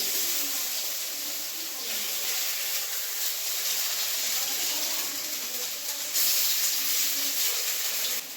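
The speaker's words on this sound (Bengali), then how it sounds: "এক সাইড ভাজা হয়ে গেছে আর এক সাইড আমি আস্তে আস্তে করে লঙ্কি দিচ্ছি" Bottle gourd flower fritters frying in hot oil, giving off a steady, close, continuous sizzle and hiss with no talking.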